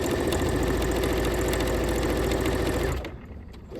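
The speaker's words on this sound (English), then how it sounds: "So I press my presser foot and then I push it, and it goes all the way back and forth, securing that stitch" A sewing machine stitching steadily, its fast even motor whir and needle chatter loud and close, running continuously for about three seconds before stopping abruptly.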